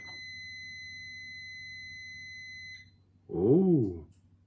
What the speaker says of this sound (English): Not only does it beep so that people that can not see can hear